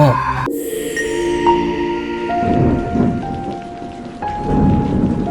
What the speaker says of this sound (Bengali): বাইরে তুমুল ঝড় বৃষ্টি হচ্ছে। টিনের চালে বৃষ্টির বিকট শব্দ।